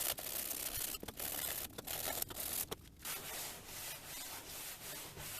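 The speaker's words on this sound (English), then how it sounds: "here's the state of the bumper after 1 pass of sanding" Sanding a car bumper on a Peugeot 406 Coupé, a steady broadband scratchy rubbing with brief pauses between strokes, close and continuous without any talk.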